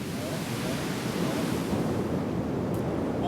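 Rough Siberian ocean surf breaks in a steady, broad roar, loud and close, with wind noise mixed in and no distinct individual crashes.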